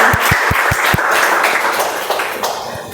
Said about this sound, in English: Let's give him a big round of applause so he says something good about us.